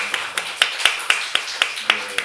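A church congregation claps in welcome for two elders with a short burst of about ten distinct, fairly sharp claps in a loose, even rhythm.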